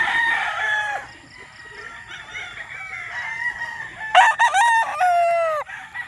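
Roosters crowing loudly and close by at a breeding pen, with long drawn-out calls overlapping and a second strong crow partway through amid clucking fowl.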